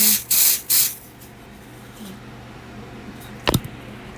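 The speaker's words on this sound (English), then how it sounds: "I'm gonna get my glue dryer spray." Several quick bursts of glue dryer spray hiss close by over acrylic nails, three at the start and another sharp short puff near the end, with quiet in between.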